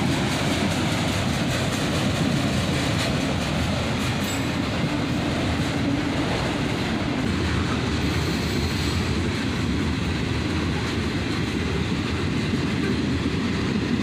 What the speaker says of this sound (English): we're at the end of the train